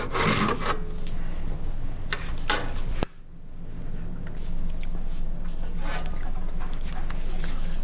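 A back saw cuts wood held in a miter box, giving close, steady rasping strokes with a brief pause partway through before the sawing resumes.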